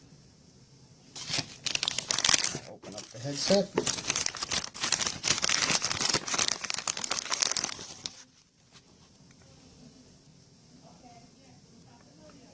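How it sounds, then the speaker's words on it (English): A plastic bag crinkles loudly and continuously for several seconds as a refurbished headset is unpacked from it, then falls quiet while a person speaks. "And I got a headset in a plastic bag."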